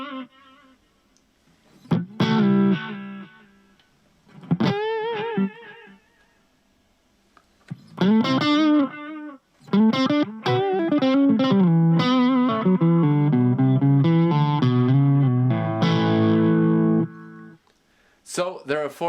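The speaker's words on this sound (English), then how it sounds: "let's see what the delay sounds like" Electric guitar played through a Blackstar ID Core 10 V2 amp with a delay effect and reverb off: several short strummed notes, then a sustained chord ringing out with echoing repeats, loud and close.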